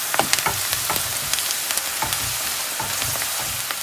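Onions frying in a pan for a potato and mushroom dumpling filling, a steady dense sizzle with frequent small pops and crackles, close and fairly loud, with no talking.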